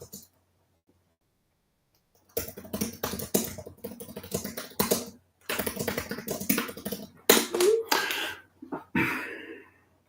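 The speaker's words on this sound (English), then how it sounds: "I'm typing a text or just a message" Fingers typing a message on a computer keyboard, fast irregular clicking bursts up close after a short silence, with a few pauses between runs of keystrokes.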